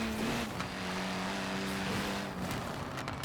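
A classic Citroen DS in Forza Horizon 4, built as a drift car on race tires, drones with a steady engine tone that rises and dips slightly as it drives, continuous and even throughout.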